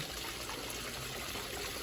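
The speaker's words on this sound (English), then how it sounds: "this water feature's lovely as well" Decorative water feature in a houseplant shop, a soft continuous trickle and splash of water, faint and steady throughout.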